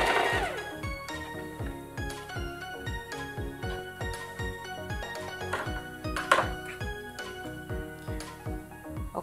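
A sewing machine back stitches a hem on stretch fabric, its needle clattering in a fast, steady mechanical rhythm close by, with a few brief sharper clicks along the way and no voices.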